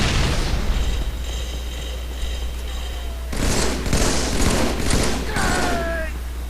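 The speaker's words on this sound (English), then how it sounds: "I got 2 shots on him here." Gunfire in a competitive first-person shooter 1v1 match: a few loud, sharp shots in the second half, over steady in-game ambience and a low hum.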